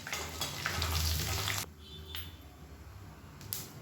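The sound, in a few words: spices and curry leaves frying in oil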